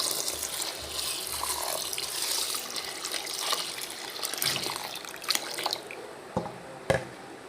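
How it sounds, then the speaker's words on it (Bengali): Lentils are rinsed by hand in a sink under a running tap, giving continuous close water splashing and swirling with a few sharp drips and clinks toward the end, with no speech. "ডাল ধুয়ে নিচ্ছি"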